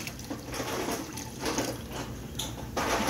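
Water pours from a tap into a pot of garden vegetable soup with marinara sauce, a close, continuous splashing rush that swells and eases in uneven surges as the pot fills.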